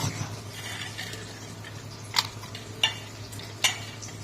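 Coriander seeds, cloves, cardamom, cinnamon, peppercorns, bay leaf and onion fry for jackfruit curry as a low, steady sizzle, stirred now and then, with three sharp clinks of a utensil against the pan.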